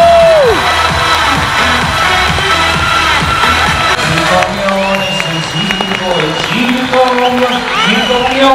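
A circus audience claps and cheers loudly after a show, dense sustained applause with whoops. Music with tonal voices and whistles plays over the applause throughout.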